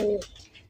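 A single short, low coo from a Rajshahi Giribaz pigeon, close and moderately loud, fading quickly into a soft rustle.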